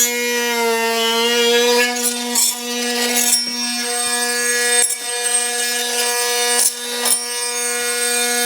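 A battery-powered scraper grinds steadily across a mudroom floor being stripped for new wood flooring, giving a loud, continuous, close-up droning scrape with brief dips and catches where the blade bites.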